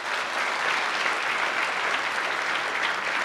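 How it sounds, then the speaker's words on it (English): A live audience at a public radio show taping claps together in a sustained, even burst of applause, thick and continuous throughout with no voices on top. "I thought we could just do this by applause."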